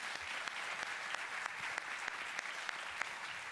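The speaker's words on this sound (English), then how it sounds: "let's give them one round of applause." Audience applause for panelists leaving the stage after a discussion on the future of Gaza and the Middle East: steady, even clapping from a crowd, moderately distant and fairly quiet, with no talking.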